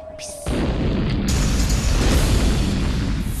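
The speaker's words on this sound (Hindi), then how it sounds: "मेरे होते हुए ये पटाखे कौन फोड़ रहा है?" A sudden loud blast of firecrackers bursts in after a brief quiet moment, followed by a sustained rumbling roar of explosions that continues steadily to the end.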